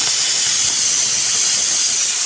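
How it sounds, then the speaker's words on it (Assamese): Pressure cooker releasing steam through its whistle while cooking potatoes, a loud continuous high hiss held evenly throughout. "প্ৰেছাৰ কুকাৰে চিটি মাৰি আছে।"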